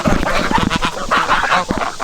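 Geese and ducks honking and quacking loudly and close while being fed on a farm, a dense overlapping jumble of calls that continues throughout.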